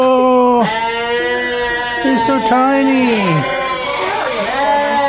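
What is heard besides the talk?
small goats bleating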